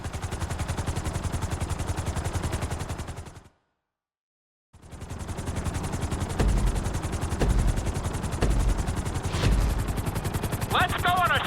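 A helicopter in Grand Theft Auto V flies with a steady, loud rotor chop that cuts out briefly and then resumes. Sharp bursts like gunfire break over it, with no one talking.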